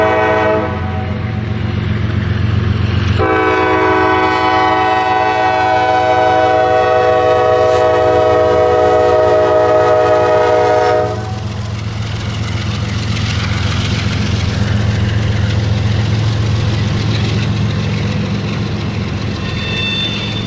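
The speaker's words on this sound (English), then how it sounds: "Q032 comes out of the south end of the yard, takes the north leg at Duval Connection" Northbound freight train Q032 pulls out of Duval Yard in Jacksonville: a loud, sustained horn blast sounds over a heavy diesel rumble, then the horn stops and the engine drone and rolling rail noise continue, close by.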